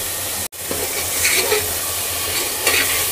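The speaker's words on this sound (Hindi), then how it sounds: "सब्जियां मसालों के साथ पका लेंगे, 2 मिनट भून लेंगे।" Vegetables frying with ginger-garlic paste, green chili, turmeric and coriander powder, a continuous close sizzle with occasional stirring scrapes after a brief silent break.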